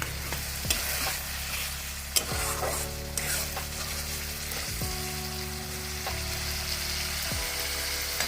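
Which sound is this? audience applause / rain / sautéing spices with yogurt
sautéing spices with yogurt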